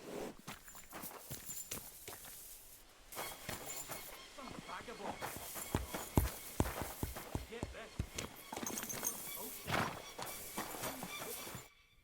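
A horse in a stable in the video game Kingdom Come Deliverance 2 clip-clops on its hooves and gives a whinny, heard close and in irregular bursts over a voice talking.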